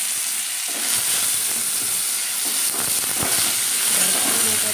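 Mango pieces frying in tempered oil for a chutney, giving a continuous loud sizzle and hiss that starts up after a quiet moment, with faint stirring underneath.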